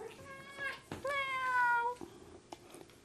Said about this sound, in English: Impromptu kitty interlude.